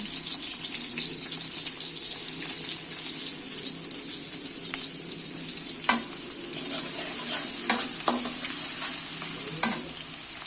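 Chopped onion and garlic fry in hot oil in a steady, close sizzling hiss, with a few soft clinks and scrapes of a spatula near the end.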